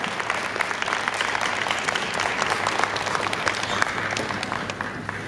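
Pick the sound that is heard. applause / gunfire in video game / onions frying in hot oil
applause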